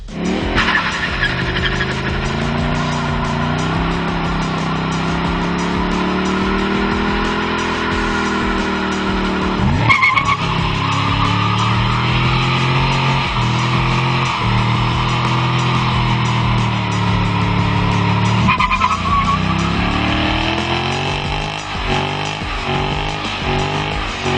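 A Ford Mustang GT, Chevrolet Camaro SS and Dodge Challenger SRT8 do tire-smoking burnouts, engines revving hard and tires squealing loudly and continuously, with sharp throttle blips and pitch shifts as the cars rev and let off.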